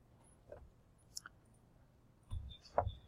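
A few faint, sharp computer mouse clicks in a quiet room, scattered singly over a few seconds with low background hiss.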